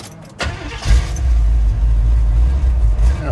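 A 1977 Chevy Monte Carlo engine cranks briefly and catches, then runs with a loud, steady, rumbling idle close by.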